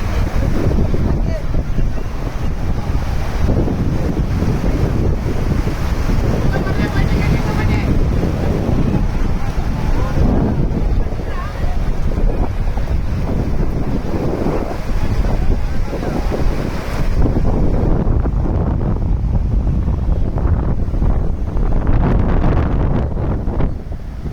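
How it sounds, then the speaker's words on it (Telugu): Heavy floodwater from a large stream pours across a highway at a village entrance during monsoon rains, making a loud, steady, unbroken rushing roar from start to finish. "ఎంత పెద్ద మొత్తంలో హెవీ ఫ్లో వస్తుంది చూడండి"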